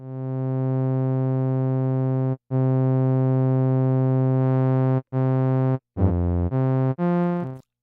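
A steady synthesizer tone with bright harmonics holds, then breaks into a few shorter sustained notes with brief gaps and pitch changes near the end.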